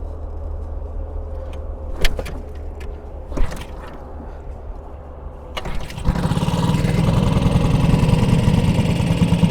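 Small 4HP boat engine, run with a little choke and no gas initially: a few sharp pulls and clunks, then it catches and settles into a steady, loud close-up running drone.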